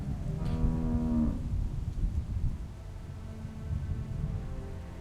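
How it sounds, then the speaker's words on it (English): A cow moos once in The Walking Dead video game, a long, loud, low bellow near the start that fades into a steady rumble of ambient noise, with no talking. "How do you like that cow, Clem?"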